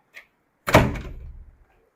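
A house door pulled shut with a solid thud and a brief rattle of the latch, heard once nearby and fading quickly, preceded by a faint short click.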